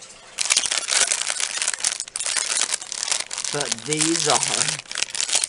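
Plastic packaging crinkles loudly and continuously close by while crystals are unboxed, briefly pausing before resuming, with a person talking over part of it.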